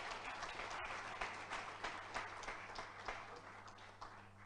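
A conference audience at a GraphQL vs REST talk breaks into steady applause: many hands clapping densely and evenly throughout, sounding moderately distant in a large room.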